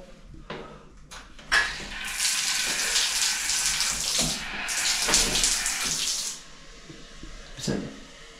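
A hotel shower in the Genting Highlands runs, water gushing in a loud, hissing spray that starts after a few clicks and taps, swells, then stops, with a brief spurt near the end.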